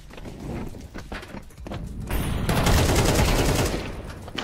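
Close, loud bursts of shotgun and gunfire in a GTA roleplay game, rapid overlapping blasts building into a dense, sustained barrage.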